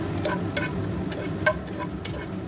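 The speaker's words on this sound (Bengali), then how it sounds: "এগুলো একটু ভাজা ভাজা করে নেব" Fennel and cumin seeds fry in oil for a pulao, a low steady sizzle with a few soft stirring clicks.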